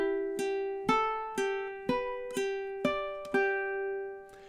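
Ukulele fingerpicks the opening measure of a song in steady time, about eight clear plucked notes ringing out one after another, close and fairly quiet, with no talking.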